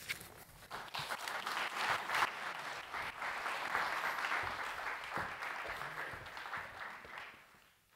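An audience at a lecture on illuminated Hebrew manuscripts applauds as speakers take the stage, a steady, moderately distant clapping that swells, holds for several seconds and fades out at the end.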